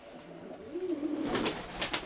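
Pigeons in a pigeon loft give soft, close cooing calls, a low rolling coo followed by a few brief fluttery sounds.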